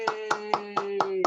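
A small group applauds a presenter in an online workshop meeting, with six sharp, evenly spaced claps in a quick steady rhythm over a constant background hum.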